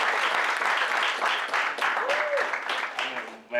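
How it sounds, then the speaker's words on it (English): Audience applause from a crowd at a music producer talk event, steady clapping sustained for several seconds, fairly loud and close, with a voice briefly audible near the end. "Come on, clap it up for Hatch."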